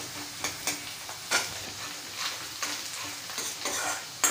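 Ginger and chopped onion frying in oil in a pan for an Indian spinach dish, a steady close sizzle with intermittent stirring scrapes and spoon clicks, no talking.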